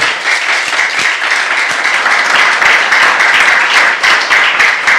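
A church youth congregation claps during a sermon, a loud, sustained round of dense applause filling the hall without pause.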